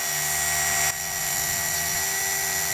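A car polisher whirs steadily on the paint while it works over bird dropping damage, a close, continuous high-pitched motor drone with one small dip in loudness partway through.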